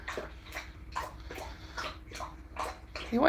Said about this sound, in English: Good grief, Jasper. Are you trying to drink the whole bowl?